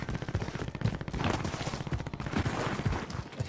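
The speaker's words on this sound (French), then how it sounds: "Ça tire derrière nous" Gunfire in the video game Warzone: repeated rapid shots and bursts, fairly dense and punchy, with a continuous busy battle ambience and no clear talking over it.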